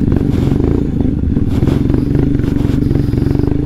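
Several motorcycles riding an off-road dirt trail about 40 km from Bengaluru, engines droning loud and close with rapid pulsing and rattling clatter throughout.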